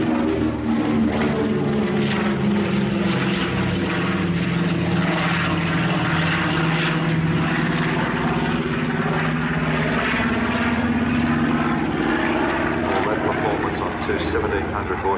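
A piston-engine bomber with twin 1,500-horsepower Wright R2600 14-cylinder radial engines roars steadily at the Duxford Flying Legends air show, a loud continuous propeller drone with a deep throbbing hum that holds for the full stretch.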